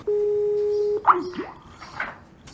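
A Skype call drops with a steady electronic tone that holds for about a second and then cuts off, followed by faint scattered background sounds.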